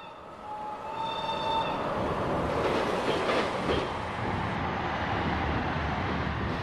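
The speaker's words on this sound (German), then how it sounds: "Da wird man sich den Zug mal in der Vorbeifahrt angucken können." A simulated ICE train set hauled by a class 103 locomotive passing by in Train Simulator, a loud sustained rumble and rail roar with a brief high tonal whine, building and then holding steady.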